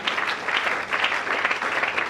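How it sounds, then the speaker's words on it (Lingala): A church congregation applauds loudly and continuously at a worship service, a dense wash of many hands clapping close by with no voices over it. "Est-ce qu'on peut acclamer très fort pour ça?"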